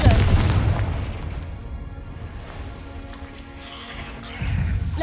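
Confringo spell cast in the video game Hogwarts Legacy, a loud fiery boom with crackling bursts and rumbling debris that dies down, then another burst of impact noise at the end.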